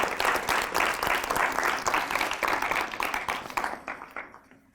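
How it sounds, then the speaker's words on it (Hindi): A newsroom audience at a Holi poetry gathering gives the poets a loud, sustained welcome of applause, dense clapping that holds steady and then tapers off at the end. "संक्षेप, बरनवाल, अक्षत का जोरदार तालियों से स्वागत।"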